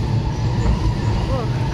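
Steady rolling rumble of a passing train heard from nearby, loud and continuous with faint squeals of metal on rail, outdoors in a city.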